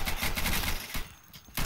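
Dense suppressing gunfire in the tactical shooter Insurgency, a loud, steady barrage of rapid shots that briefly thins out mid-burst and then resumes at close range.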